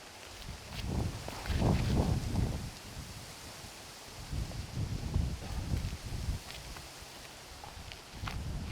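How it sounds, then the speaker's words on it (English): Strong wind buffets a golf course in gusty bursts, roaring against the microphone in loud swells that rise and fall over several seconds. "The wind has just picked up that much."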